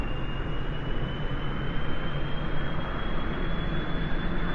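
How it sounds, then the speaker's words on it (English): A spaceplane engine in a video game roars at full throttle, a loud, steady, dense rumble with a faint rising whine running through it and no voices. "Full throttle."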